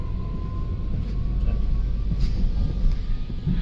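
Steady, loud low rumble from inside a moving passenger train, with continuous rolling noise and a faint sustained tone running throughout, with no voices.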